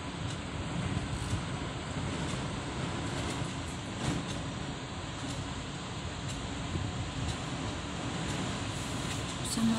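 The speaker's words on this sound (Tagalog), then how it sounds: "Grabe ang lakas ng hangin ngayon." Strong wind roars steadily throughout in Catmon, Cebu, during bad weather, a dense, continuous rush of broadband noise with gusty rumble and no voices.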